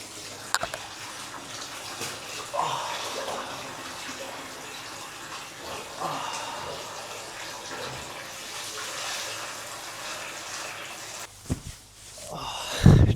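Water rushing and splashing continuously in a pool at an overwater villa in the Maldives, a steady broad wash with occasional louder sloshes and a burst of splashing toward the end.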